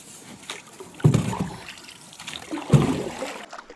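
A small boat setting off across a dark bay on an autumn hunting and fishing trip, two distinct splashing oar strokes with water trickling and dripping between them, close and fairly quiet.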